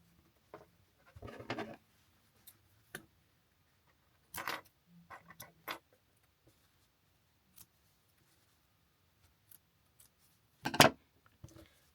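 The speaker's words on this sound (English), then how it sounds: "I'm just going to cut off the excess" Scissors snip off excess crochet yarn in a quiet room, a series of short, close, separate cuts spaced irregularly, with one louder snip near the end.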